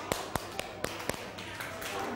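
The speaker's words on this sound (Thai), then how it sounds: "ปรบมือให้สิงโตหน่อย" Children clapping their hands in a classroom, a handful of sharp separate claps spaced unevenly over a couple of seconds, fairly close, with a faint voice in the background.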